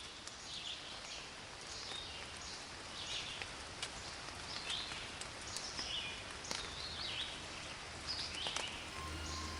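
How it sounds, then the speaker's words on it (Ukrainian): Steady light autumn drizzle patters softly throughout, a fine continuous hiss with scattered faint drips and occasional faint bird chirps in the distance. "Послухайте звук дрібненького дощу."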